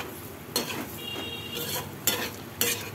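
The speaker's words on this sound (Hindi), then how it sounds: "अब उसको अच्छे से हम मिक्स करेंगे।" Small chopped potato pieces being stirred in a hot pan, with a constant low sizzle and three distinct metal-on-pan scrapes spaced about half a second apart.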